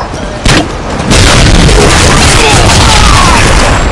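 A frag grenade explodes in a video game: a sharp blast lands early, then a loud, sustained rumbling roar fills the rest of the moment amid dense game noise.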